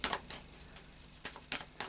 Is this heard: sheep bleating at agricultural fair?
no